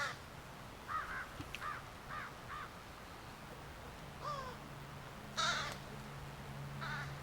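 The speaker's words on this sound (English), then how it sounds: "That's a crow, and there's one particular crow that knows how to make that sound." Several crows caw outdoors, one of them giving a knocking, woodpecker-like call. The calls come in short repeated bursts, moderately far off, over a steady low hum and light background noise.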